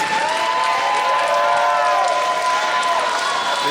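A live wrestling crowd applauds and cheers continuously during a tag team match at a third anniversary event, a dense, loud wash of clapping with voices woven through it and no pauses.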